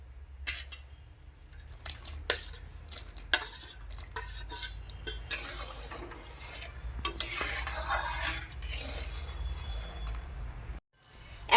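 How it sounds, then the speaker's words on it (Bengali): Fried prawns dropped into a simmering raw tamarind sauce, with clattering utensil scrapes, stirring and a steady low sizzle and bubble, moderately close with no talk. "এখন আমি ভেজে রাখা চিংড়ি দিয়ে দেব।"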